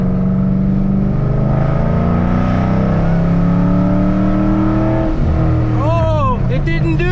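A Ford Mustang GT engine revs loud and close under wide-open throttle with a WOT box 2-step fitted, a steady sustained roar rising in pitch, with people talking over it.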